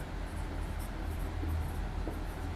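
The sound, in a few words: writing on a board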